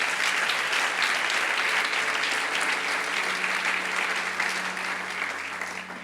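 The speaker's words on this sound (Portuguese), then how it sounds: "Aleluia, aplauda Jesus." A church congregation at Zion Church Lisboa applauds steadily and fairly loudly for about six seconds, a dense crowd of clapping hands that tapers slightly toward the end with no clear talk over it.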